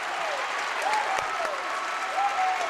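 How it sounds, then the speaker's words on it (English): Crowd applause fills a high school basketball gym after a blocked shot in a Mid-Penn playoff game against Hershey, steady and broad, with squeaking sneakers on the court. "Even I'll clap for that one."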